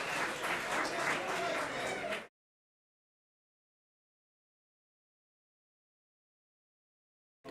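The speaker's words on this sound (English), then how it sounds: "Everyone's clapping." An audience at a Yu-Gi-Oh! card tournament applauds in a dense, even burst for about two seconds, then cuts abruptly to silence.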